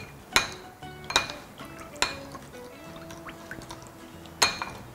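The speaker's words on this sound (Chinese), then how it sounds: "搅拌均匀就可以了" A utensil stirs a sauce of oyster sauce, Sichuan pepper wine, white vinegar, sesame oil, water and starch slurry in a bowl, producing several sharp clinks against the side at irregular intervals with faint liquid swishing between.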